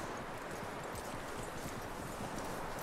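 Horse hooves clip-clop in a steady rhythm beneath a dense, continuous wash of background noise, moderately faint, in the video game Red Dead Redemption 2.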